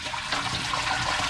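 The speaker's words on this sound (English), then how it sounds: "Gonna dump tap water off now" Tap water dumped out of a container during gold refining, a continuous loud splashing rush that fills the short moment, close by and with no talking.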